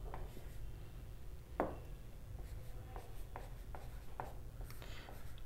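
Equation written on a board, a soft continuous scratch with sharper taps and strokes at irregular intervals, faint and close, no voices.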